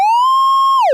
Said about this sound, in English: So you could send this to an amplifier and listen to a sine wave